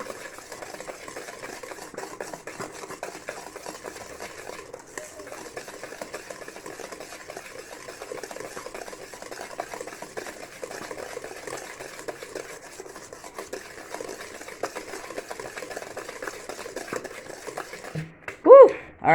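An electric mixer beats mango cake batter after an egg is added, giving a steady, fairly quiet whirring drone that carries on throughout and ends in a sharp clatter.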